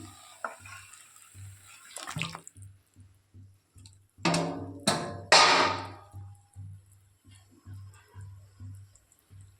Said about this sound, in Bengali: এই যে মেখে রাখা মাছটাকে আর বেগুনটাকে আমি এর মধ্যে দিয়ে দেবো